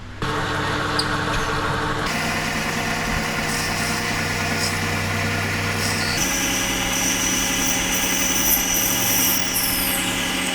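A steady, high-pitched power drill whirs continuously while boring progressively larger holes in a sim racing handbrake part, its motor pitch shifting a couple of times as it bores, with no talking.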